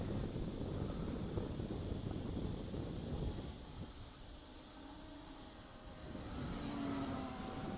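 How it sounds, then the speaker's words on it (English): Outdoors, a 5 to 10 mph wind rumbles steadily across the microphone while an MJX Bugs 3 drone flies, with a faint high whine of the rotors above the broadband gusts. The wind is loudest at the start and eases slightly midway. "I probably have a 5 to 10 mile an hour wind here"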